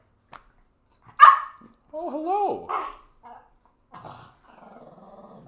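A playful small dog grumbles with low, wavering growls and gives a sharp bark nearby, with a person briefly speaking around the sounds.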